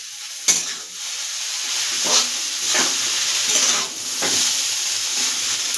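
Egg chowmein stirred in a hot pan: a constant hissing sizzle with a few slow, scraping turns of the spatula, close up and with no talking.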